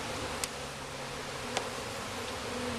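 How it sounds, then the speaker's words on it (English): A dense swarm of honeybees drones around an open hive during a hive split: a continuous, close, buzzing hum with a couple of brief sharper buzzes as individual bees pass near, and no talking. "we are getting deluged with bees right now"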